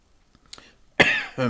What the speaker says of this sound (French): Par contre, ouais, ça me fait tousser